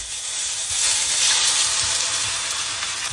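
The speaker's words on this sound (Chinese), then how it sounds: "锅烧到冒烟，把丸子下去" Meatballs drop into smoking-hot oil in a wok for Nanjian wanzi, producing a loud, even hiss and crackle that swells and holds steady throughout.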